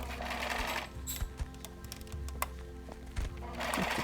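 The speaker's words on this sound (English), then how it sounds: "So what I did was I sewed around on the line." Sewing machine stitching the pieces of a pink fabric bear together along a marked line, close and steady, running in bursts with short pauses and a louder stretch at the end.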